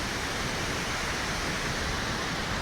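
Steady, dense rushing water roars without a break, a broad wash of white noise from Kurangani Falls near Valparai with no voices over it.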